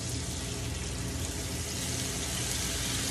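Hot water with a crushed chicken bouillon cube poured onto mushrooms in a pan, producing a steady, close, hissing splash and sizzle that runs unbroken and fairly loud, with no talk.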